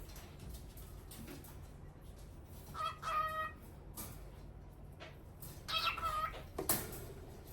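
A pet cockatiel gives a few short bursts of bright, high chirping, separated by quiet pauses in a calm room.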